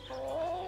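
A single chicken gives a short, close cluck-like warble that rises and holds its pitch briefly, heard alone.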